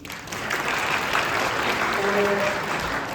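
Audience applause at a high school admissions information session for incoming students, steady dense clapping from a sizable indoor crowd holding evenly for a few seconds, with a faint voice briefly underneath.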